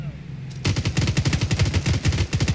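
Rapid automatic gunfire from the Arma 3 video game, with a faint lead-in and then loud, rhythmic bursts of shots repeating steadily at close range.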